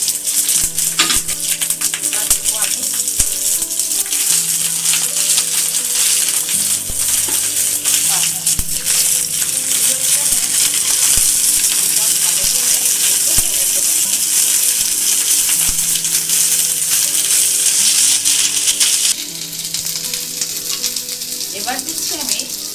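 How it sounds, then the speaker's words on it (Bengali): Onion, garlic, dried red chillies and green chillies fry in a pan with a steady, close sizzle and occasional stirring clatter throughout. "এবার আমি এগুলো সব দিয়ে দিলাম পেঁয়াজ, রসুন, শুকনো লঙ্কা, কাঁচা লঙ্কা।"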